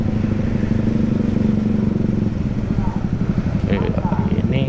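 Motorcycle ride captured from the bike itself, a steady low engine drone with road rumble and wind that shifts partway through, while a voice talks over it.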